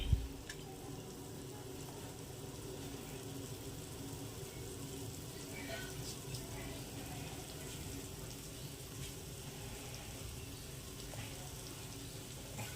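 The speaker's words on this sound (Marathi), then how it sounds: "मस्त उकळी मार आली बघा पाण्याला" Water for upma comes to a rolling boil in a pot on a home stove, a faint, steady bubbling hiss that follows a small bump at the start and continues evenly.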